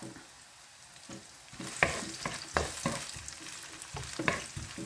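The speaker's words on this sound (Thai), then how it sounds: "หอมหัวใหญ่ลงผัด" Chopped onion stir-fried in a pan for tomato spaghetti with ham, with a steady sizzle and repeated scraping strokes of a spatula that grow louder and sharper partway through.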